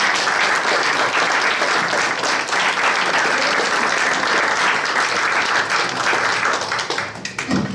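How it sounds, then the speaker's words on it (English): A seated audience at a railroad storytelling panel applauds the speakers, a dense, steady wash of many hands clapping close and loud throughout, thinning slightly at the very end. "another round of applause for our speakers"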